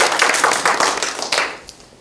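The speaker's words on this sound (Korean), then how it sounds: "박수 한번 주세요" Brief burst of audience clapping at a Saemaul women's association case presentation, loud sharp claps close by that fade out within two seconds.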